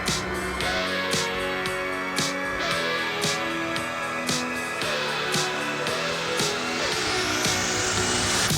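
Loud engine of a first-generation Ford Raptor truck while driving, a steady heavy roar with broad rumbling tone throughout, plus periodic sharp transient bursts, heard alone without talk.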